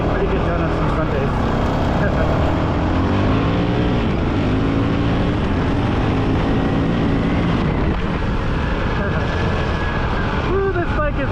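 A Honda CRF450RL dirt bike ridden off road, its engine roaring loud and steady throughout, with wind buffeting the microphone and the engine pitch rising and falling.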